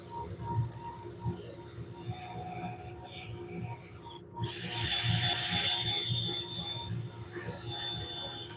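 A wooden bowl is hand-sanded with coarse 60 grit sandpaper, making soft, irregular rubbing and rasping strokes over a low background hum. The strokes are fairly faint and close.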